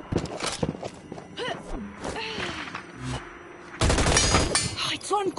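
Enemy gunfire in the video game Hyper Scape, scattered sharp shots and bursts with a louder volley toward the end, while a player talks over it.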